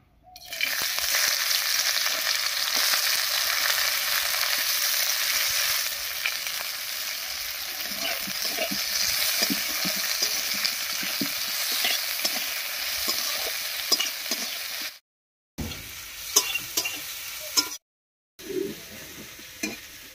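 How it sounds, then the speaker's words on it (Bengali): Chopped onion and slit green chillies fry in hot mustard oil in a kadai, a loud continuous sizzle up close with occasional stirring scrapes, easing off later with short gaps. "তেল গরম হয়ে গেছে, তেলের মধ্যে দেবো পেঁয়াজ কুচি আর চেরা লঙ্কা।"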